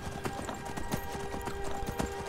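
Hooves clip-clop steadily as a horse is ridden along a mountain path in the video game Skyrim, with an even trotting rhythm over a constant background music bed.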